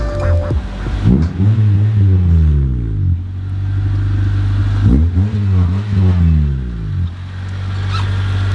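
A modified Honda Civic EG engine revs hard from inside the car on a test drive, two long pulls climbing through the gears with a loud, close drone and brief lifts between them.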